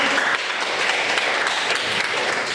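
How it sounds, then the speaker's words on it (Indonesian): An audience applauds at an Indonesian university teaching session, a steady wash of clapping at moderate distance, without talk over it. "sekali lagi kita beri aplaus untuk kita semua"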